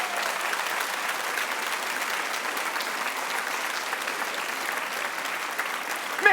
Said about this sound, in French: S'il vous plaît, un fracas de vos plus beaux applaudissements pour Alice Cric-Planck.